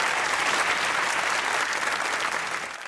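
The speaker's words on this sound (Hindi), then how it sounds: "नुमान भाई के लिए तालियां।" Studio audience on a Pakistani comedy talk show applauds steadily, a dense, loud wash of clapping that holds throughout and eases slightly at the end.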